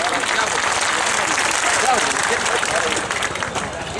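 Audience at an Urdu poetry mushaira in Muzaffarpur breaking into vigorous applause, dense clapping from a crowd with faint murmuring beneath.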